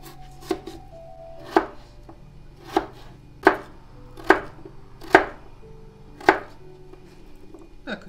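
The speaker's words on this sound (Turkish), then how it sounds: "Patateslerimizi küçük küçük doğrayacağız." Potatoes being diced into small cubes with a knife on a board: seven sharp, evenly spaced chops about one per second, close and distinct, with no talk.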